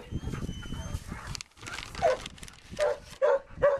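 A puppy chewing on treats makes small whimpering, yipping noises and mouth sounds in short bursts, close by, with quiet pauses between them and a faint steady tone in the background.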